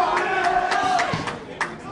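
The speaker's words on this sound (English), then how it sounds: "the crowd's going crazy here" Crowd at a Golden Gloves amateur boxing finals cheering and shouting excitedly, a steady roar of voices with scattered claps and whoops throughout.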